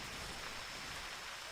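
Rain falls in the hunting video game theHunter Classic, a dense, even hiss of steady downpour with no voices over it.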